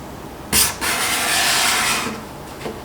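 A card scraper burnished with an Accu-Burr scraper burnisher draws across wood, raising curling shavings: two close, rasping scraping strokes, one short and sharp, the next longer and smoother, fading out.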